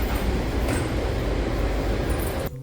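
A DC Metro train pulls away from Franconia-Springfield station with a steady, loud rumbling roar of wheels and motors, cutting off abruptly near the end.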